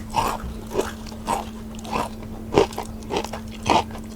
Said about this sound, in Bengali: চিকেন ফ্রাইটা ট্রাই করবো প্রথমে একটা খেয়ে দেখি কী অবস্থা অনেকটা ক্রিসপি